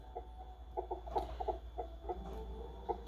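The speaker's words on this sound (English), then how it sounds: "We get chickens." Chickens cluck in a coop in the Archor Games Cowboys video game, a series of short, soft clucks repeating irregularly over a low background hum.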